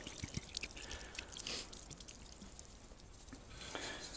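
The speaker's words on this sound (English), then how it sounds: "Get all that water out." Water dribbles and drips out of a dug-up, embossed amber antique medicine bottle, with faint irregular trickles and drops close by and no talking.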